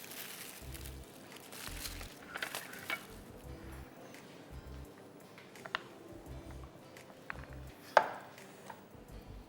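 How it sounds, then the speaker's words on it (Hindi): A knife chops chocolate on a board in a home kitchen, giving repeated short, close, crisp thuds in uneven bursts with small pauses and a few clinks between them. "अभी हम चॉकलेट को चॉप करके इसके अंदर डालेंगे ताकि मिक्सिंग में इजी हो जाए।"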